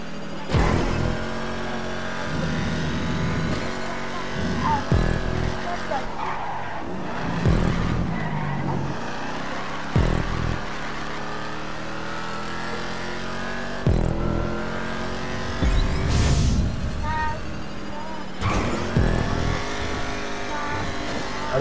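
A race car in GTA roars through repeated revving and gear changes, engine pitch climbing and dropping in cycles, with bursts of tire skidding, loud and close throughout.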